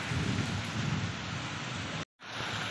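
Heavy monsoon rain pours outdoors in a dense, loud, steady roar that cuts out abruptly for a moment near the end before resuming.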